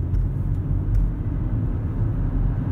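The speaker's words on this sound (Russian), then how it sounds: "теперь я втаплю, вот еду на первую передачу" Lexus RX engine pulls hard in first gear, a heavy, steady low rumble heard from inside the cabin with little change over a few seconds.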